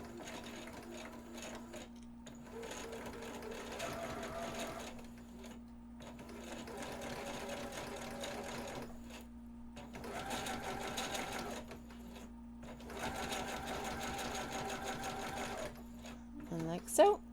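A sewing machine stitches a lapped zipper in about five bursts of fast, even needle chatter. Short pauses separate the bursts and are partly filled by a soft voice talking. A quiet steady hum runs under everything.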